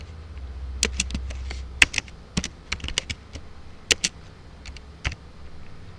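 Typing on a computer keyboard, close and clear: irregular bursts of sharp key clicks with short pauses between them, and no voices.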